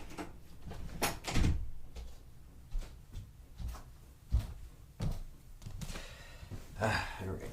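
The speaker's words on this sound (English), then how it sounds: "let me go close that door for you" An interior door is pushed shut in a room, giving a few dull thumps and knocks at moderate distance, with faint sighs and breathy vocal sounds between them.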